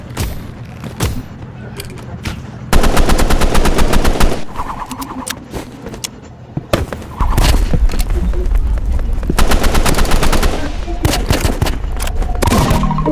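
Rapid bursts of automatic gunfire from a Roblox shooter game crackle loudly in long volleys with short gaps, dense and continuous through most of the stretch, alongside occasional game effects.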